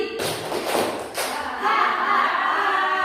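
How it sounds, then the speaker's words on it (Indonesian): A seated audience at an indoor session claps together three times, a few quick group claps followed by a sustained rattle of hands and crowd noise, loud and near. "Tepuk tiga kali."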